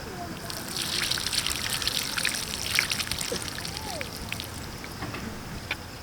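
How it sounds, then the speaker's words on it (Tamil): Water heating in a cooking pot in a village kitchen, giving a continuous soft bubbling and trickling hiss that holds steady throughout, moderately close, with faint background sounds. "தண்ணி கொதிச்சிட்ருக்கு."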